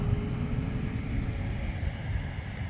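An airplane landing or taking off at a Texas airport, heard as a faint, steady, distant engine rumble with no voices.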